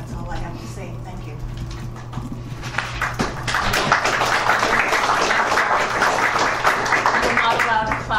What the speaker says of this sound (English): You're not allowed to clap or boo or anything like for that.